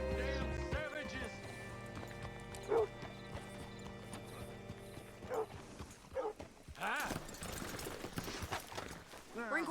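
Horse hooves clip-clop and a whinny rises from a horse in a Western open-world game, a few sharp hoof and neigh bursts over a steady musical drone, with someone speaking briefly near the end.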